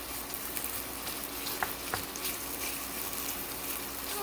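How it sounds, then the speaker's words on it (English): Kielbasa sausage frying in a pan on the stove, a steady, dense sizzle with a few faint clicks, no talking. "I'm just going to cook that for a minute so it can go in with our sauce here."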